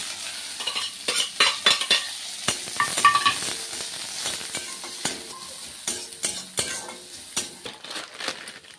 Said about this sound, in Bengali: এবার কড়া একটু অল্প একটু তেল দিয়েছি আর একটু পেঁয়াজ দিচ্ছি